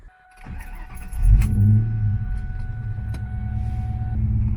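A car engine cranks and catches, then settles into a steady low rumbling idle, close and fairly loud, with no talking.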